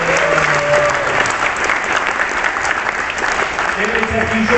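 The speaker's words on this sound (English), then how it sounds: "So give yourselves a round of applause" A DragonCon panel audience claps heavily and continuously, a thick, even wash of applause filling the room from start to finish.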